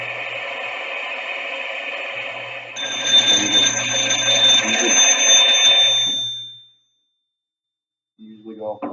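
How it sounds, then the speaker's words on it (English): A low air pressure warning alarm sounds as a steady, loud, high-pitched electronic tone for about four seconds over a constant mechanical hum, then cuts off, leaving silence before brief noise returns. "Make sure your low air alarm goes off."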